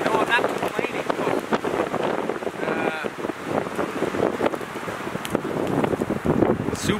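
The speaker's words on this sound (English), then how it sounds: "super windy out now, hey?" Strong wind buffets the microphone in gusty rumbling bursts, with a voice speaking intermittently beneath the roar.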